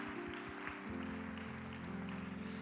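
Church congregation at a young adults' service applauding, a soft continuous patter of clapping underneath sustained organ or keyboard tones that hold steady chords throughout.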